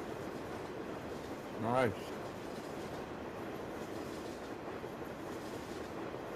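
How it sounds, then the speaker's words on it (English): A long train rolls past in Farming Simulator 17, a steady rumbling wash throughout with a brief louder swell partway through, while a person speaks under it. "Well, that was a long train."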